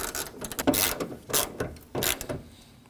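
Bolts being tightened on a side mirror of a 2013-2015 Subaru XV Crosstrek, heard as several short close mechanical ratcheting bursts separated by brief pauses.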